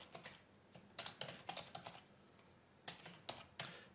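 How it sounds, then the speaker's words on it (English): Computer keyboard keys clatter in quick bursts of typing while an email address is entered, with short pauses between runs of keystrokes, close and fairly quiet. "So you type in your email address"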